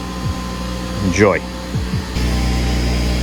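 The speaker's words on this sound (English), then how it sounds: "So sorry about the compressor noise." A steady mechanical hum from an air compressor running in the background of a garage while a truck is being prepared for a tire change, a constant drone under a short spoken word and brief tonal sweeps.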